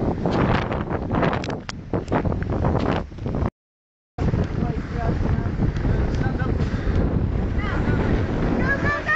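Wind gusts across a microphone on a mountain trail near a lake, a steady broadband roar for several seconds, cut off by a brief silent gap and then resuming just as strongly.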